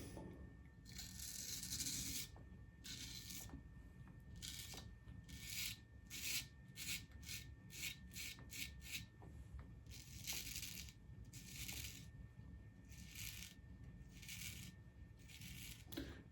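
A straight razor scrapes steadily across the face, taking off a week's worth of hair growth in a series of short, close rasping strokes with brief pauses between them.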